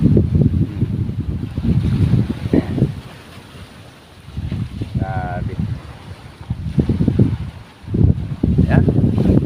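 Ocean waves and gusting wind surge around a small fishing boat (bangka) loaded with nets, the rough rumble swelling and easing in several broad waves, briefly quieter in between.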